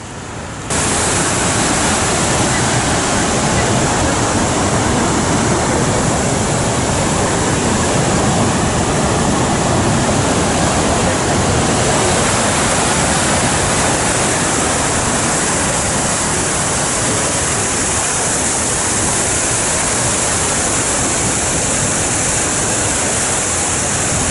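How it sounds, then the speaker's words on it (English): Water released through a dam on the Mississippi River roars in a dense, continuous rush, loud and steady like a waterfall, with no voices. "they're letting water out of the far right side of it and the far left side of it"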